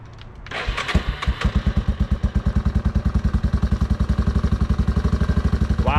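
An engine cranks and catches, then settles into a loud, close, rapid, even putter as the ATV idles steadily.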